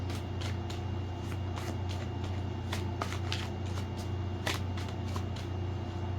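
A tarot card deck being shuffled by hand, with quick repeated riffling flicks and soft card slaps over a steady low hum, close and fairly quiet with no talking.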